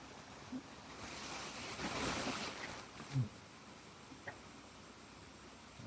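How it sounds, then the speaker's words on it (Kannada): Natural stream of water running through a coffee estate in Virajpet, a steady broadband rush with a soft gust swelling near the middle and a few faint knocks, no voices. "ಅಲ್ಲೊಂದು ನೀರು ಹರ್ಕೊಂಡು ಬರ್ತಾ ಇದೆ, ಜರಿ ನೋಡಿ ಕಾಣಿಸ್ತಾ ಇದೆ ಅನ್ಸುತ್ತೆ ನಿಮ್ಗೆಲ್ಲ."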